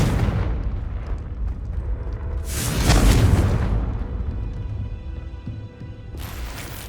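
Confringo blasting spell explosions in Hogwarts Legacy, a rumbling blast that swells loudly and then trails off, with another sharp burst near the end.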